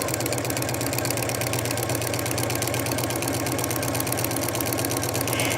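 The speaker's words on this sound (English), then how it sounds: "stitch it in place again using a walking foot because we are going through so many layers of fabrics" A sewing machine with a walking foot stitches through many layers of fabric on a diaper bag handle, running at a fast, even, continuous rhythm close to the mic.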